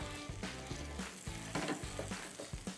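Mashed potato stirred into onions and garlic in a hot pan, giving a steady sizzle with repeated scraping strokes of the spoon throughout, fairly close and moderately loud.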